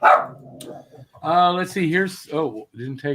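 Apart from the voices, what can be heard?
pet dog barking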